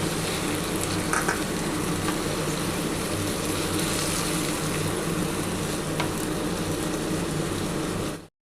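Potato and yardlong bean curry frying in a pan after a little water is added, a steady loud sizzle and bubbling hiss that runs without pause and then cuts off abruptly.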